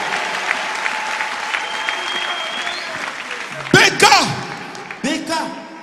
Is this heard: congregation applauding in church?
yes